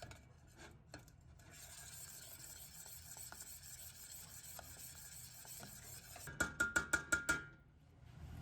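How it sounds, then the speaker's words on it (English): Spoon stirring a powdered sugar and vanilla mixture in a pan, soft gritty rubbing and scraping at a quiet level, ending in a quick run of about six sharper rhythmic scrapes against the pan. "Now we're going to add powdered sugar and vanilla. Stir till smooth."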